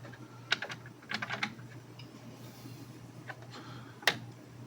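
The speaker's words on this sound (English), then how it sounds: "I'm gonna unplug this connector that controls the fans here." A plastic fan connector is unplugged from its socket on a 3D printer head, giving a few faint, sharp clicks and taps spaced over several seconds against a quiet room hum.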